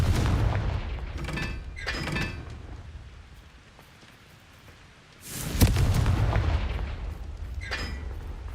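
A Confringo fire spell goes off in the video game Hogwarts Legacy as a series of deep booming blasts. Two quicker bursts come early, then a quiet stretch, then a louder explosion with a rumbling tail and another hit.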